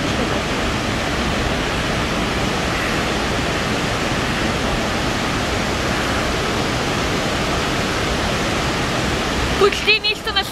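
Water rushes inside Devil's Throat cave in Bulgaria as a loud, steady broadband roar that fills the whole clip. A brief sound from nearby comes in at the very end.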